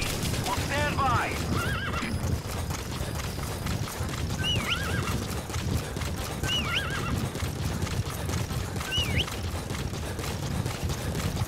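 Horse neighing and whinnying from D-Horse in Metal Gear Solid V, with repeated calls and clip-clop hooves over a steady, loud game-world rumble.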